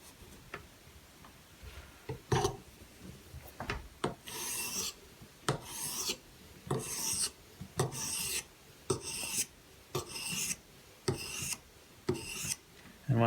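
A Benchmade Bushcrafter 162 knife is drawn across a Hapstone sharpener stone in repeated rasping strokes, a dozen or so quiet, evenly spaced scrapes with brief pauses between.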